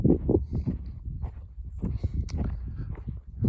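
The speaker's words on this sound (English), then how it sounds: "what are you barking at down here, sweetheart?" An older dog barks on a hiking trail, giving a series of close, moderately loud barks in an irregular rhythm.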